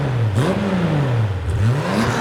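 The Gunther Werks Speedster, in sport exhaust mode, revs repeatedly in rising and falling sweeps, a loud, raspy engine note blipped up and down close by with no voices.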